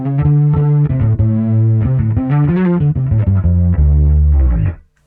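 A guitar plays through a drive pedal, its thick distorted tone shimmering with chorus from the effects loop. Sustained chords ring loud and steady, then cut off abruptly near the end.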